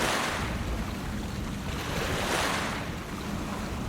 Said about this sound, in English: Each wave breaks like thunder on the rock